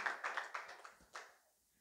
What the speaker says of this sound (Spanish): Démosle un aplauso más al Señor, por favor.